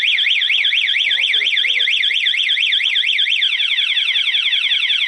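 A loud electronic motorcycle alarm, a Spy 5000M, wails continuously, its pitch sweeping rapidly up and down in a siren pattern, then switching to a faster sweep near the end.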